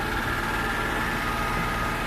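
A Daewoo Matiz three-cylinder engine with 49,000 km on it idles at high revs, a steady, fairly quiet mechanical hum heard up close and on its own.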